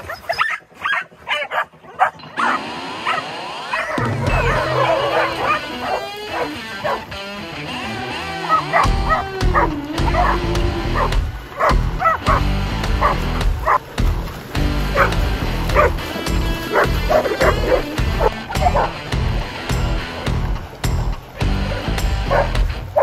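Several dogs barking and yipping excitedly at close range, with rapid overlapping yaps and some whimpering over steady loud activity throughout.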